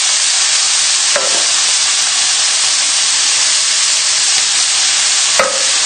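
Chopped tomatoes stirred into a bubbling fish casserole pot, a loud, constant steamy sizzle and hiss close by, broken by two sharp knocks of a spoon against the pot.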